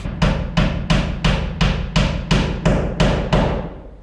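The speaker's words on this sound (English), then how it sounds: "Let's see if we can get a nail in." Sharp hammer blows drive a roofing nail about ten times at an even, brisk pace, each hit loud and close with a short ringing decay.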